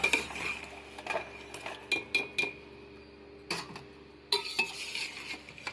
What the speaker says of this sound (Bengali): কুমড়োটা আমি এবার ছেঁকে নেবো।